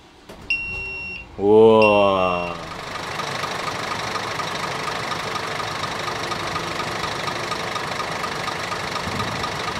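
Near the start of a new Scania double-decker bus, a few electronic warning beeps sound, then the engine cranks and fires with a loud rising roar. It settles into a steady diesel idle, with voices talking briefly.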